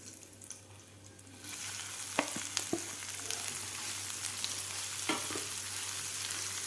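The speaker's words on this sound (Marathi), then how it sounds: "आता गॅस मिडियम ठेवून आपल्याला हे दोन ते तीन मिनिट हे वाटण परतून घ्यायचं आहे व्यवस्थित" A spice paste with asafoetida and turmeric, for a cauliflower and pea curry, sautés over medium heat. After a quieter opening, a loud, steady frying hiss sets in, broken by occasional spatula scrapes and taps.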